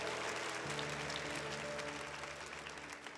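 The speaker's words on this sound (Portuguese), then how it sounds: "Pode aplaudir esse irmão." A Mass congregation applauds in a church, a broad spread of clapping with a sustained low musical tone underneath. The clapping thins slightly toward the end.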